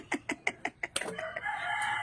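Chickens at a neighbouring house cluck in a quick series of sharp, evenly spaced calls, then break into a longer squawking cackle, close and fairly clear.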